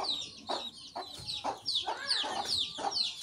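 A chicken clucks close by in a rural household, a run of about seven short, rhythmic, slightly squawky calls spaced roughly half a second apart.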